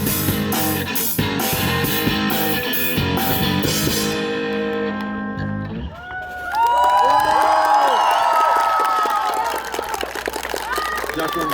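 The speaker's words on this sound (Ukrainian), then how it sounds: "Дякую за оплески." A concert crowd at a live band show cheers, whoops and applauds loudly right after the music stops, the song's final notes giving way to sustained crowd noise.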